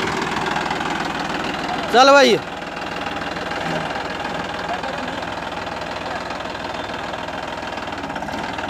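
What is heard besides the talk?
Massey Ferguson 9500 tractor engine running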